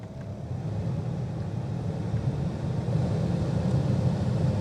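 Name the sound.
car blower motor fan changing speed ranges, 2006 Ford Fusion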